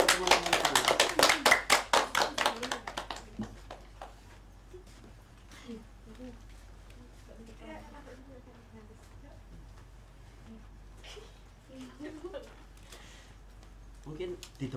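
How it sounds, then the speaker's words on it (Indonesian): A classroom of students claps for a group about to present during a microteaching session: a loud, dense burst of rhythmic clapping for about three seconds, then fading into quiet murmuring and scattered voices. "Beri tepuk tangan dong untuk teman-teman."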